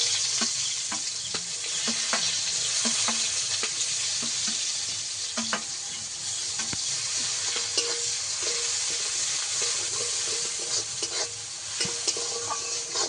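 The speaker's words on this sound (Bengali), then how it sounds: "ফোড়ন ভাজা হয়ে গেলে কেটে রাখা পেঁয়াজ দিয়ে দেবো।" Chopped onions fry in hot oil with whole spices, a steady bright sizzle broken by frequent small crackles and stirring clicks. Close and fairly quiet, with no voices.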